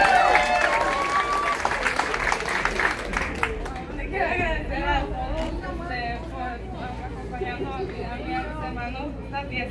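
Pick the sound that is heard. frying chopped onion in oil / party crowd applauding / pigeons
party crowd applauding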